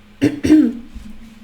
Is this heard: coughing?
yes